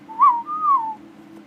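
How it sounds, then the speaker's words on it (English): A whistled command in the video game Ark Survival Ascended: two clear tones, a short rising note then a longer gliding one, sounding alone over a faint steady background hum. "I love the whistle commands."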